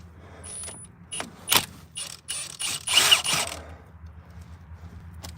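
Cordless half-inch Milwaukee ratchet whirring in several short bursts of a second or less, fairly close, separated by pauses, with mechanical clicking between runs.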